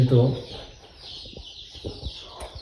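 A hen clucks in short, soft bursts nearby after a brief spoken voice, with quiet rustling in the background.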